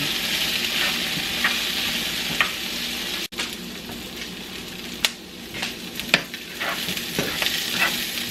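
Green beans and garlic sautéing in olive oil give a loud, continuous sizzle up close, with occasional sharp pops and tossing clatters, and one brief cut in the sound partway through.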